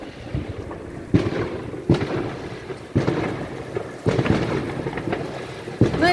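New Year fireworks bursting over a residential area in Germany, a series of loud, distant booming explosions about once a second with rumbling tails, no talk over them.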